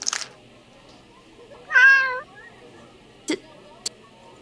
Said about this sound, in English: Did my cat hurt you?